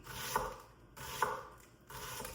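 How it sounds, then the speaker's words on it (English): Knife dicing an onion on a cutting board for a Ritz chicken casserole, two distinct chopping strokes about a second apart, close and moderately loud, with no talking. "slice the onion alongside the little lines on the onion, and then a couple slices halfway through like I just did, boy, it dices up easy."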